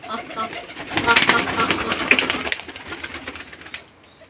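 Pigeons in a newly built coop, with a flurry of wing flaps and soft cooing that builds and then fades, while a person talks over it.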